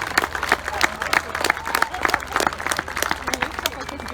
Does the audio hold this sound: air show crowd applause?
yes